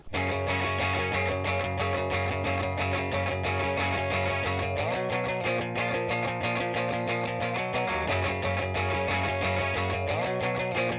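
A distorted electric guitar plays a continuous riff with shifting chords into a Boss RC-500 looper pedal, close and loud, without any talking.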